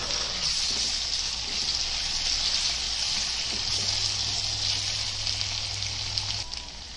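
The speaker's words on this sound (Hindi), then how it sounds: "अभी अदरक लहसुन डालेंगे, उसको अच्छे से कच्ची उसकी स्मेल जाने तक पकाएंगे, उसको अच्छे से भूनेंगे।" Ginger and garlic fry in a pan for a Konkani-style vegetable dish, giving a steady, even sizzle and hiss that holds at close range for the whole stretch with no talking.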